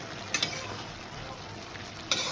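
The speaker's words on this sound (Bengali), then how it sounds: "একটু নেড়ে দিই।" Small mourola fish curry (bati chorchori) simmering in a pan is stirred with a utensil, giving a low sizzle and a few sharp scraping clicks near the start and end.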